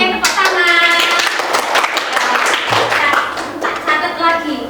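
Students in a classroom clap their hands together in a lively, close burst of sharp, uneven claps, with children's voices chattering over and between them.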